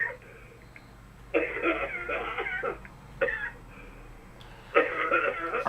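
Someone coughs over a phone line in a few harsh, raspy bursts separated by pauses, set against a low steady hum.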